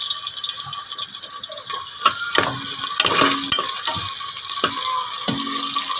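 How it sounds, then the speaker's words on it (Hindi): Chopped onions sizzle and fry steadily in hot ghee, a continuous close crackling hiss with occasional stirring clicks and scrapes, no voices. "घी हमारा अच्छे से गर्म हो गया, इसमें हम डाल देंगे अपने प्याज कटिंग किए हुए"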